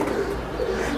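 A pigeon coos softly and continuously for a moment, a low rolling call close by with no other sounds over it.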